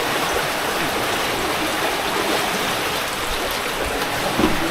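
Floodwater rushes and churns loudly and steadily into a house during flooding in Occidental Mindoro, a dense continuous roar of fast-moving water with no break throughout.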